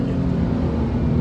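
A 4.3-litre Porsche 997.1 Carrera engine runs at wide open throttle, a loud, steady low-pitched drone heard from inside the car through a short burst.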